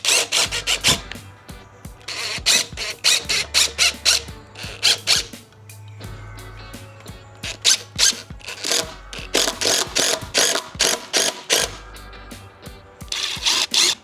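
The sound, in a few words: impact driver driving hex screws into wooden planter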